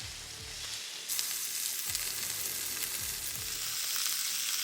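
Steaks sizzle loudly on a Ninja grill griddle, a dense close hiss with a sudden surge as the meat is flipped, plus a few soft utensil knocks.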